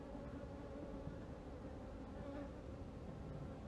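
A dense, steady hum of many honeybees buzzing around an open hive during an inspection ahead of a split, a continuous low drone that is faint and even throughout.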